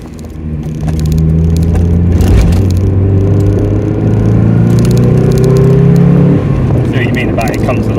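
A Mazda MX5 Mk2 1.8 engine drones loudly and steadily at high revs, its pitch rising and holding, with rattles and occasional sharp clicks over the hum.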